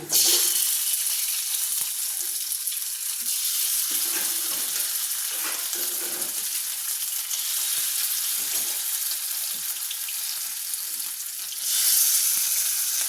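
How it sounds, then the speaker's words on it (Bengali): A banana flower mixture fries in a pan with a constant broad hiss, close and fairly loud, rising briefly near the end, with occasional soft stirring scrapes. "এবারে এগুলো ভেজে ভেজে রান্না করবে"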